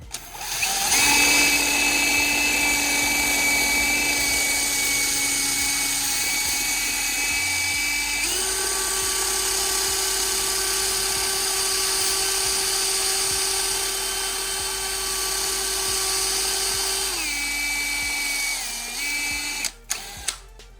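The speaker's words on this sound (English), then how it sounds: "We got our internal wire brush on this drill." An internal wire brush spun by a portable drill scrubs heavily rusted steel threads, making a loud, continuous high whine that shifts pitch partway through and cuts off near the end.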